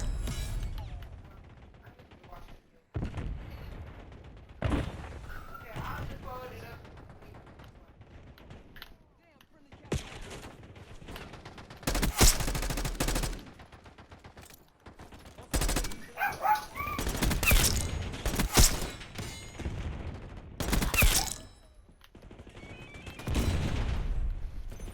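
Gunfire in a shootout at a blue garage, with repeated loud bursts and single shots scattered through the stretch, some rapid and stacked together, while someone talks over much of it.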